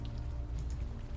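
Steady rain falls over night streets in Manhattan in the adventure game Unavowed, a soft continuous patter with no voices and no change in level.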